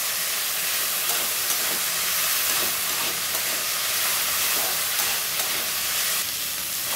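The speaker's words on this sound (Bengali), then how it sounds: "দেখো, কাঁকরোলটাকে আমি সুন্দর নেড়ে চেড়ে নিব সুন্দর করে।" Spiny gourd (kakrol) fries in oil with no water added, a loud dense hiss of sizzling filling the whole stretch, steady and close, with faint stirring scrapes beneath and no talking.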